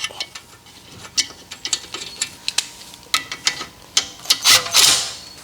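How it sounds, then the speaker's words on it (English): A lug nut goes onto the wheel hub of a Mercedes W212 E63 AMG during a wheel bearing job, with close metallic clicks and rapid ratcheting bursts followed by a louder whirring spin near the end. "I'm just going to put on one lug nut on the opposite end here just to balance it out"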